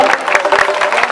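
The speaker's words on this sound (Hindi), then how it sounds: "जोरदार तालियां।" Short burst of audience clapping at a religious jubilee gathering at Shadani Darbar, loud and close with uneven hand claps over a murmur of the crowd.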